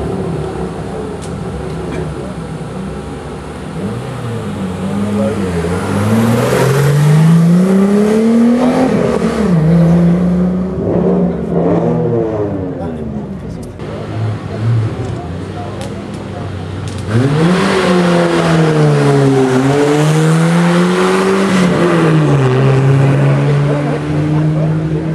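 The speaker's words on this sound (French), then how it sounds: "C'est parti pour Lionel Burlet avec la superbe Alpine." Alpine race car climbing a historic hill climb course, engine revving up and down through the gears as it nears, roars loud and close, fades briefly, then surges again, with a commentator talking over it.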